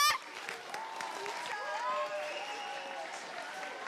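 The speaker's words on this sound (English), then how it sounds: "Un tonnerre d'applaudissements pour tous les juges encore" Audience applause for the judges at an idol solo contest, a steady wash of clapping under a loud announcer voice and music tones, continuing for the whole stretch at moderate level.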